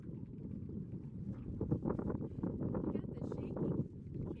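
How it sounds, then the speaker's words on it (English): Wind gusts buffet the microphone at Millerton Lake with low rumbling roar that swells and fades, while someone talks over it. "The wind's kicking up a little bit, huh?"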